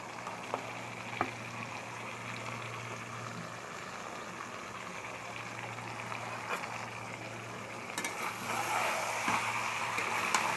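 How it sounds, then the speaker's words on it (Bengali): Coriander, spring onion and green chillies simmering in hot water for hariyali chicken, a low steady bubbling hum with faint gurgles and occasional small clinks, close and quiet with no talk. "এবার আমি এই যে গরম জলে দিয়ে দিলাম, এটা একটু সামান্য একটু ফুটিয়ে নিম আমি।"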